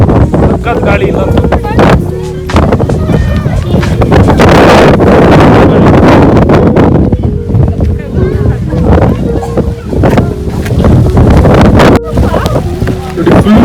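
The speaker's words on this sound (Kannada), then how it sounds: "ಅಷ್ಟು ಗಾಳಿ ಬರ್ತಾ ಇದೆ ಇಲ್ಲಿ," Strong wind with heavy rain at Banasura Sagar dam in Wayanad, roaring and buffeting loudly against the microphone in uneven gusts while a person talks throughout.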